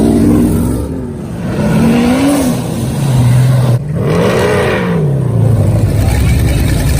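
A muscle car engine revs at a car show, the pitch climbing and falling through several loud, close throttle blips over a steady idle rumble.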